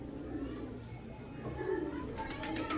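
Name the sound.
pigeons cooing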